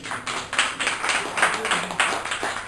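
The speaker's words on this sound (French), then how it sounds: "que je vous demande d'applaudir" An audience at a cultural event clapping in a rhythmic, fairly steady series of claps, moderately near, with a faint voice underneath.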